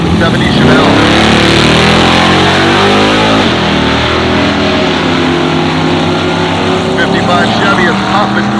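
Drag racing cars, including a silver 1955 Chevy in Pro Street Power Adder and a 1970 Chevelle, roar loudly and continuously with engine revving, under a track announcer's voice.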